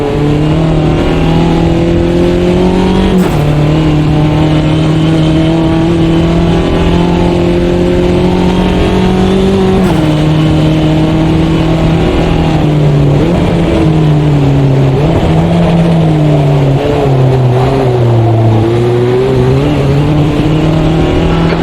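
A race car engine drones steadily through a lap in the Automobilista 2 sim racing game, loud and continuous with shifting pitch as it changes gears and accelerates, with no talking.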